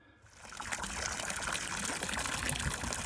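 Water pumped out by a new marine bilge pump on a boat, a continuous splashing outflow that begins softly and quickly builds to a steady pouring rush.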